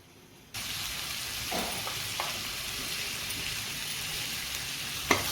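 Raw mango pieces roasting under a lid in a pan, a steady, even hiss of frying that starts abruptly and holds at constant loudness, with a brief tick near the end.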